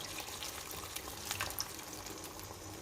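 Water is poured into a tomato and stockfish sauce in a pan, a soft continuous splashing and gurgle with a few light bubbling pops, fairly quiet and with no talking.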